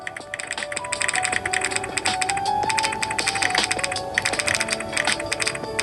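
A computer keyboard in a Roblox keyboard event clatters with fast, continuous typing, dense overlapping key clicks over a faint musical background.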